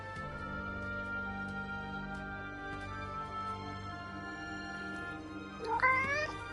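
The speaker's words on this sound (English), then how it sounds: "Hey, that cat." A cat in the video game Forspoken gives a short, rising meow near the end, heard clearly over a steady bed of game music and ambience.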